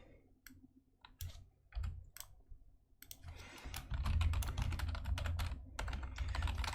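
Rapid clicking of computer keyboard keys, sparse taps at first, then a dense, steady burst of fast typing close by, with no talking.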